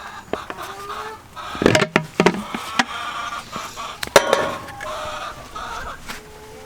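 Chickens cluck and squawk in short irregular bursts on a snowy homestead, close by, with scattered knocks and movement noises around them.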